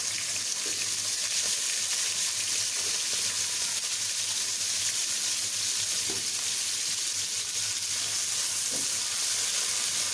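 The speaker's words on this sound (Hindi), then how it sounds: "प्याज को अच्छी तरह से फ्राई करें।" Onions for aloo bhujia fry in oil, giving a dense, even hiss that runs steadily throughout with only faint occasional knocks, no talking.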